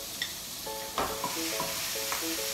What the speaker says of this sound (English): once I throw my ground beef in here, I can get a good sear on it right away